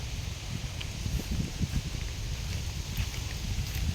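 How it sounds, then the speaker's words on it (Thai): Steady rain falls outdoors over a palm plantation with a constant hiss and soft low patter, moderately loud and unbroken throughout. "ฝนมาอีกแล้ว"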